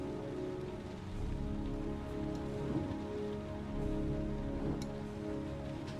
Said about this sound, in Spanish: ¿Cómo está lloviendo, loco?